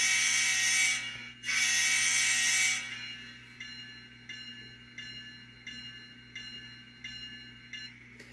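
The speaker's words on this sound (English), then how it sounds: "We'll do a horn, and it should automatically turn the bell on." Horn blasts from a ScaleTrains N scale Tier 4 GEVO model locomotive, two loud sustained tones separated by a short gap, then the bell ringing in a steady repeating pattern at lower volume, with a constant low hum underneath.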